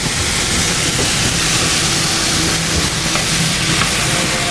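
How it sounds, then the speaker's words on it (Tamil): Spices tempered in hot oil for a Puducherry roadside-style veg salna, a loud, steady sizzle and hiss of frying that stays constant throughout with no speech. "அதுக்குள்ளே நான் தாளிக்கிறேன்"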